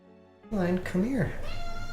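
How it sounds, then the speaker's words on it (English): A domestic cat meows at a door, a single drawn-out, rising-and-falling call following a shorter one, close and clear after a brief quiet start, with faint background hum. "I hear a kitty at the door."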